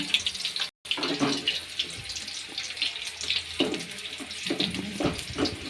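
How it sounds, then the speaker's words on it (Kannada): Half an onion fries in two spoons of hot oil as a tempering for Malenadu-style fish sambar, giving a steady, close crackling sizzle with small bursts of spatter throughout. "ಇವಾಗ ಎಣ್ಣೆ ಬಿಸಿ ಆಗಿದೆ. ನಾನು ಅರ್ಧ ಈರುಳ್ಳಿ ಹಾಕ್ಕೊಂಡಿದ್ರು ಒಗ್ಗರಣೆಗೆ."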